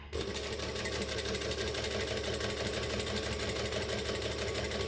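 A sewing machine stitches a panel with a loud, steady mechanical whir and rapid rhythmic needle chatter, running continuously and close by with no voices.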